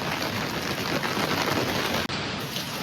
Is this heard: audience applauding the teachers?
no